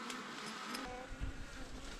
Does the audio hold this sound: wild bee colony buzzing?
yes